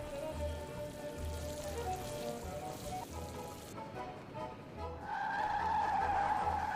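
A car chase in a Nancy Drew video game, with steady engine roar and tyre skidding throughout and a louder, higher squeal of skidding tyres in the last couple of seconds.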